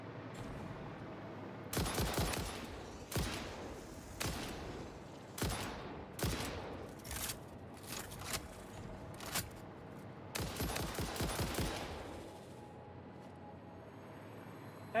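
Bursts of gunfire in the video game Satisfactory crack out in clustered volleys, some rapid and rattling, others single sharp shots, moderately loud with short quiet gaps between.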